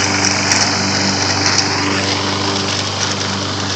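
A remote control lawn mower runs steadily while mowing, a loud, close engine drone with a constant pitch and no voices.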